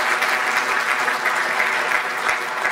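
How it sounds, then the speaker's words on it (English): An audience at a FIFA football conference analysing the 2018 World Cup in Russia applauds the panel discussion, a loud, dense and continuous ovation throughout with no speech. "another huge round of applause for the discussion"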